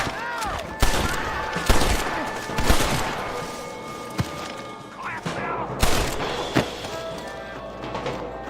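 Rapid gunfire in Red Dead Redemption, a western shootout with repeated sharp shots and booming reports at irregular intervals, loud and close, alongside in-game voices shouting.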